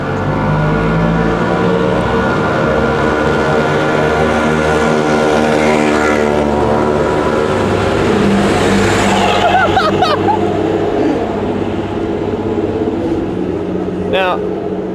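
A city bus, route 237, pulls up on a street in Argentina, its loud diesel engine droning and shifting as it nears and slows, with brief air hisses, and people talking over it.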